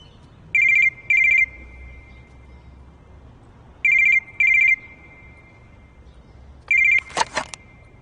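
A telephone rings in short double bursts, three pairs separated by quiet pauses, loud and close, with a brief clatter after the last ring and no speech.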